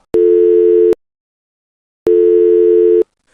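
Two long electronic phone tones, each under a second, separated by silence, then abruptly stopping; a ringback or busy-style telephone signal as a call rings and cuts off.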